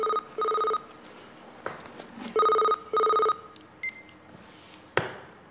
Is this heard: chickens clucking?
no